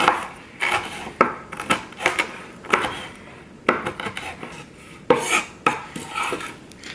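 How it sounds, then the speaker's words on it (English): A knife chops food into small bits on a cutting board in a home kitchen, sharp irregular knocks coming in quick clusters and pauses, close and fairly quiet, with no talking. "just going to chop it up into bits."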